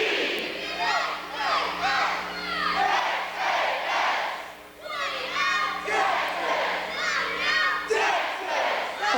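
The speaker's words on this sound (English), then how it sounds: "That's the only way the crowd can really yell at the right time" Crowd at a 1996 college dance team championship yelling and cheering in unison on cue, loud sustained shouts in repeated bursts with a pause near the middle, many young voices overlapping.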